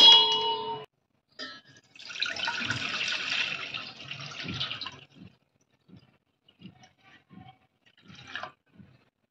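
Water is poured into a thick-bottomed kadhai for cooking wheat starch milk for kurdai, a short splash, then a steady pour lasting a few seconds, followed by faint clinks and drips in a quiet kitchen.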